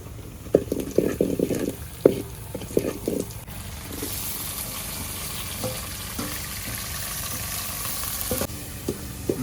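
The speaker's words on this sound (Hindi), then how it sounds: "अब गुरुजी दाल में तड़का लगा रहे हैं।" A tadka tempering hits dal being cooked for a meal on the bank of the Narmada, a crackling sizzle with sharp pops and stirring clatter early on, then settling into a steady fry, with no talking.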